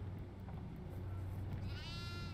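A goat in the horror video game Devour letting out a quavering bleat near the end, rising over a constant low droning hum of game ambience.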